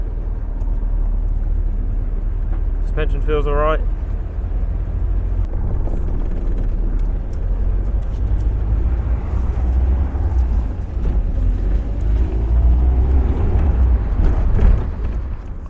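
A Triumph Spitfire engine revs steadily while driving in second gear, a constant loud low drone with wind and road rumble throughout, and someone speaks briefly over it.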